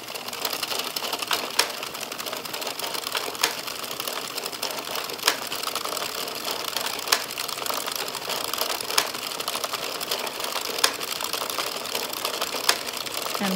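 An Addi circular knitting machine being hand-cranked through rows, a steady rapid mechanical clatter with regular louder clicks about every two seconds, close and continuous without speech.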